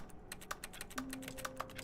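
Rapid keyboard clicking from a computer keyboard while playing the video game The Stanley Parable, a quick irregular run of close, light taps with no talking.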